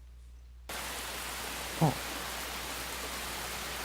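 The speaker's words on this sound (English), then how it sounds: "Looks like it began to rain at some point." Steady rain sets in abruptly after a quiet moment and becomes a continuous broadband hiss, with a brief short vocal exclamation over it.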